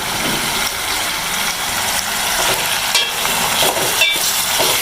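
Tomatoes and green chillies frying in ginger garlic paste give off a loud, dense, continuous sizzle close up, with occasional stirring scrapes.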